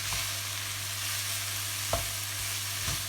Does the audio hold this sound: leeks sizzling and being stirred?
yes